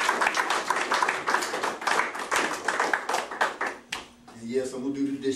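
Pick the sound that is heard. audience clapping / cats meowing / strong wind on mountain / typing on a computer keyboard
audience clapping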